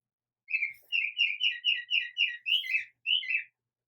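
A migrating backyard songbird sings a played-back song of about nine quick, bright whistled phrases. The phrases come in a steady series, close and clear, with no voices.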